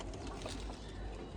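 A pigeon coos softly at close range indoors, low and faint over a steady background hum.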